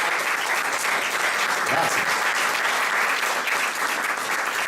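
Festival audience applauding, a dense, steady round of clapping from a crowd that fills the whole stretch, with a brief spoken word from one person heard over it.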